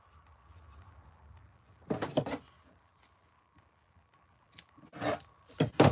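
Sewing scissors handled with a few sharp metallic clacks and snips, separated by quiet pauses, close by.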